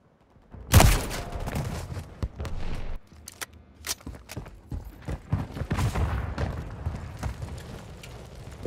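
Call of Duty Modern Warfare 3 gunfire in a sniper match: a loud opening shot followed by scattered bursts and sharp cracks at uneven intervals, some near and some more distant, with game noise in between.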